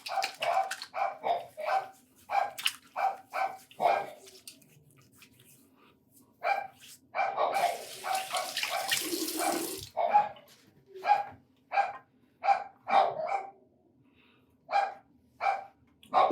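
A dog barks repeatedly outdoors at moderate distance in rhythmic bursts, pausing briefly, then resuming with a steady run of barks, loud and clear with no talking over it.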